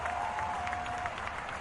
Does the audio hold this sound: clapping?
yes